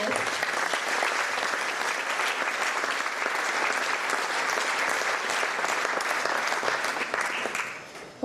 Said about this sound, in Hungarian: És természetesen egy nagy taps Lucának is jár.